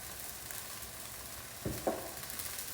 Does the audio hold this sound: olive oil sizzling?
yes